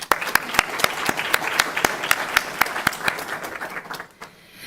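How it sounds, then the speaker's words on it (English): A live-streamed environmental council event audience gives a sustained round of applause with sharp individual claps standing out, fairly loud and close, tapering off near the end. "join me in a round of applause as a big thank you to everyone"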